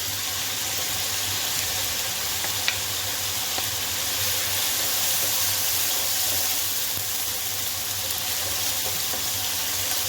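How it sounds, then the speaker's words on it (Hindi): Ginger garlic paste sizzling with fried onions in a pan over a medium flame, a steady, even frying hiss lasting throughout with no voices. "यहाँ पे जिंजर गार्लिक पेस्ट भी मैंने इसको भून लिया है"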